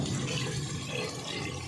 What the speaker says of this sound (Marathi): आपण हे जे मिक्सरमधलं पाणी काढलं होतं ना ते टाकून घेऊया मसाल्याचं